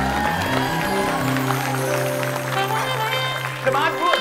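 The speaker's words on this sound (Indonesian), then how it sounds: "Boleh tepuk tangan dulu buat semuanya." A game show studio audience claps for all the players, a steady wash of applause lasting the whole stretch, with voices talking over it.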